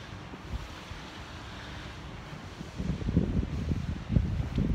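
Cold wind gusts outdoors in Camden Town, London, as a rushing, buffeting roar that swells and grows stronger toward the end, with no voices.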